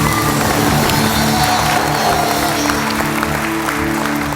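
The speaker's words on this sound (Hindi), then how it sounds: "भरपूर तालियां मोहम्मद हफीज के लिए।" An audience at a Pakistan cricket team reception applauds a cricketer with dense, sustained clapping from a large crowd. The applause is loud and even throughout and has no clear talk over it.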